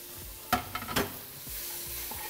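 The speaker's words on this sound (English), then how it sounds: "Okay, we're just gonna stir that around." Ginger, garlic, onions and dry chili sizzle in a hot pan while a utensil stirs them, with a few sharp scraping knocks over a steady frying hiss, close up and without talk.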